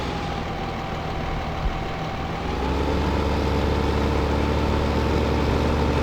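A tractor engine idles steadily in Farming Simulator 2015, a low continuous drone that grows slightly louder and fuller partway through and keeps running close by with no talk over it.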